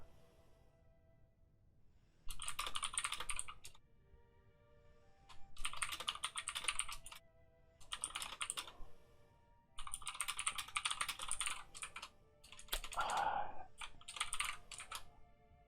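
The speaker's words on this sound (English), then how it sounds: "Sorry, my typing is terrible tonight." Bursts of rapid typing on a computer keyboard, close and clear, come in several separate runs of clicking with quiet pauses between them and no talk.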